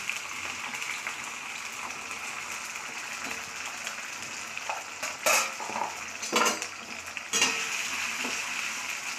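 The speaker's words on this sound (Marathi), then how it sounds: "हा चिरलेला बटाटा भाजण्यासाठी टाकत आहे।" Chopped potato fries in oil with cumin in a wok, a steady low sizzle broken by several louder scraping stirs of a utensil against the pan; no one speaks.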